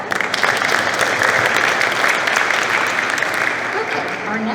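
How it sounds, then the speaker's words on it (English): Sustained applause from a room full of people, steady clapping that holds strong and then begins to taper off slightly. "let's give her another round of applause"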